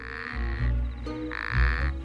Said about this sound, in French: Il doit donner de la voix pour chanter une sérénade aux femelles.